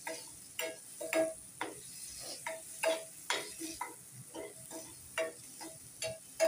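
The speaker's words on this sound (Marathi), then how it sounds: "हो चिरिल्लो कांदो घालता आनी असो सॉट करून घेता." Chopped onion sautéing in a pan for a mixed vegetable masala, stirred with a utensil that gives regular soft scrapes and knocks about twice a second over a quiet sizzle, close with no talking.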